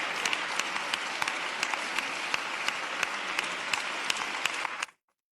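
A studio audience applauds on a Huelva radio programme, dense sustained clapping at steady volume for about five seconds before cutting off abruptly into silence.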